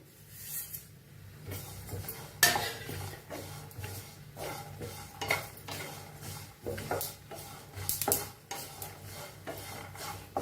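Sesame seeds being stirred as they dry-roast in a pan, giving repeated scraping and rasping strokes, close and fairly loud, with uneven rhythm and no talking.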